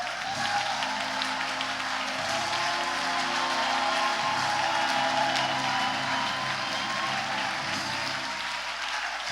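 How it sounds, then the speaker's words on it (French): A church congregation applauds and acclaims the Lord during a French-language service, with sustained, dense clapping and a low murmur of crowd voices mixed with humming tones underneath, steady and loud throughout. "Acclame le Seigneur pour toi-même."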